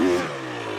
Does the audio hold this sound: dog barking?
no